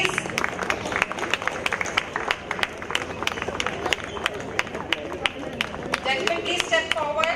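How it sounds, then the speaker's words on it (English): A crowd at a Madras–Colombo rowing regatta prize ceremony applauds steadily, dense clapping from a nearby audience with background murmur throughout. "A round of applause, please."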